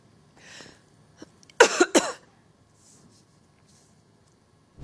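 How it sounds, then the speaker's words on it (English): A news journalist coughs hard on air, a tight burst of two or three harsh, close coughs after a faint throat sound, then near silence. "she started coughing hard, as if she were being suffocated by her own gas"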